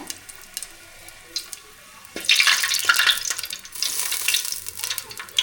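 Lumps of asafoetida fry in hot oil, a bright bubbling sizzle that starts quietly with faint clinks and then surges loudly, with stirring noises.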